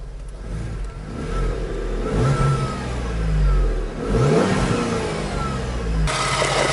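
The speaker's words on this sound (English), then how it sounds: "Let's throw the engine up and see how she behaves" A Ford Transit van engine, warmed up after an oil change, revving up in a few swelling pushes from a low idle rumble and dropping back between them, close and loud.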